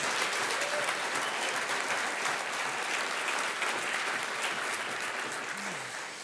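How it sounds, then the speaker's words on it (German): An audience at a German political discussion event applauds after a speech, steady continuous clapping heard at some distance, fairly even throughout before easing slightly at the end. "Der Applaus zeigt,"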